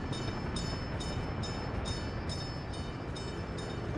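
A train in the Workers and Resources simulation game rolls along steadily with a dense, continuous rumble. Faint wheel clicks repeat at a regular rhythm over the whole stretch, with no voices.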